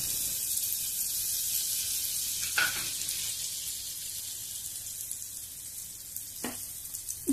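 Butter melts in a hot pan on the stove with a steady, soft sizzle and frying crackle. A couple of faint clinks stand out briefly against it.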